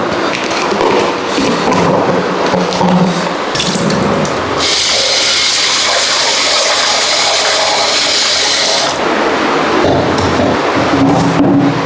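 Tap water runs steadily into a plate in a home kitchen while rice is set out for washing. The flow holds a continuous, close, moderately loud splashing hiss with no voices.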